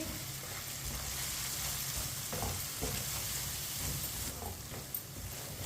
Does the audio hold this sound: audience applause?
no